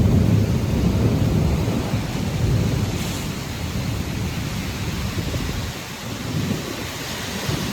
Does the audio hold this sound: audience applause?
no